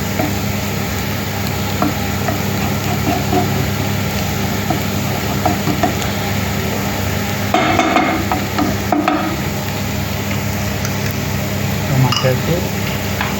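Omelette mixture sautéing and being spread flat in a pan, a loud steady sizzle with a constant rumbling background and a few scraping bursts of the spatula, heard up close.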